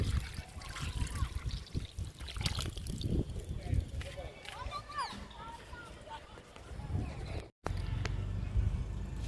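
Liquid fertilizer trickles and splashes onto potted fruit plants in summer, intermittent pouring heard close under a person speaking through most of it, with a brief dropout near the end.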